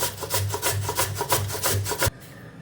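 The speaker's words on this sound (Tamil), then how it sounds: "நல்லா இந்த மாதிரி பெரிய பெரிய ஹோல்ஸாக இருக்கிற பக்கமாக பார்த்து துருவிக்குங்க" Sweet potato being grated on the coarse, large-hole side of a grater, a loud steady run of about a dozen rhythmic rasping strokes that stops abruptly near the end, with no talk.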